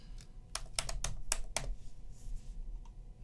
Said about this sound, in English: let's type prompt into the search bar